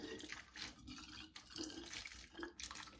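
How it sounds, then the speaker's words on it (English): Boiling water pours into a skillet in short splashing bursts, a hissy gushing sound repeated a few times with brief pauses between. "I'm just going to pour a little bit of water in each one, boiling water."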